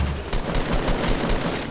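Rapid automatic gunfire in Fortnite Battle Royale, a dense burst of closely spaced shots that runs loud and continuous through the moment, with no talking.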